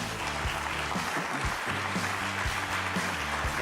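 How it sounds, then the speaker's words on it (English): A morning meeting audience gives a round of applause to a light rail official, with steady, full clapping throughout and a low, rhythmic tonal pattern underneath the hands. "How about a nice round of applause?"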